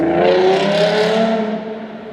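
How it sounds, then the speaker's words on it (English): A loud car exhaust roars close by as the engine revs, swelling and then easing off as the sound fades slightly toward the end. "I guess he really wanted to have his exhaust in the video"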